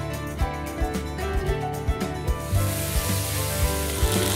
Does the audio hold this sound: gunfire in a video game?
no